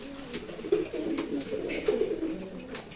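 Pet pigeons coo in low, throaty repeated phrases, close and steady, with a few light rustles and clicks between calls.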